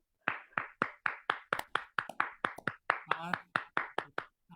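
Audience at a business seminar in Garhwal clapping in welcome, with about fifteen sharp, evenly spaced claps in a steady rhythm that sound like a group clapping in unison, close and fairly loud.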